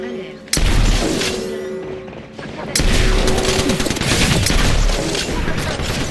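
Gunfire in a video game aimed at the player: loud sustained bursts of shots and impacts, a sudden onset then a second heavier barrage, dense and close throughout.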